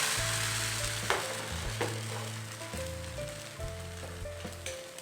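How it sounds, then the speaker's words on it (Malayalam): Neer dosa batter cooking on a hot oiled pan makes a steady, close crackling sizzle that fades slightly over a few seconds, with a couple of light taps and no speech. "ഇതേപോലെ മാവൊന്ന് പാനിൽ വെച്ച് കൊടുക്കാം."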